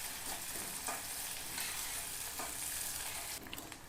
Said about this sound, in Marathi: जो हा चिरलेला कांदा आहे तो आपण तेलामध्ये टाकणार आहोत। याला चांगलं तळून घ्यायचे।